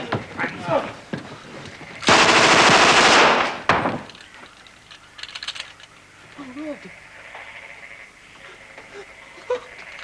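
Burst of loud, continuous machine-gun fire in a war film, lasting about two seconds in the middle, with someone shouting before it and quieter voices and scattered sounds afterward.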